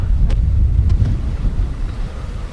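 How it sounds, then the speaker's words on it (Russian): Steady Arctic wind buffets the microphone with a low, continuous rumble that eases slightly toward the end; no one speaks. "начинает прям ветерок такой вот как-то надувать"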